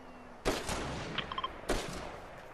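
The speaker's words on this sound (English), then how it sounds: "We got more gunshots behind us?" Gunfire in the Fortnite video game: two sharp, loud bursts of shots about a second apart, with faint ringing tones in between and no talking.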